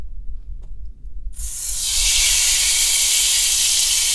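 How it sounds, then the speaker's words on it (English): Bulgogi, marinated beef, hits a hot pan and bursts into a loud, steady sizzle that builds quickly and then holds, bright and close, after a brief quiet low rumble. "Listen to that sizzle."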